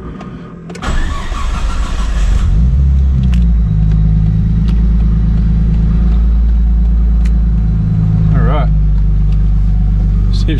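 A four-door Nissan Skyline R33 starts up, then its engine settles into a loud, steady rumble close by as the car drives out, with a brief rising rev near the end.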